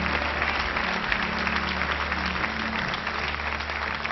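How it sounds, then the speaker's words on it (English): A church congregation claps hands together in a steady, dense burst of applause during a sermon, moderately loud and continuous with no talk over it. "Somebody else clap your hands."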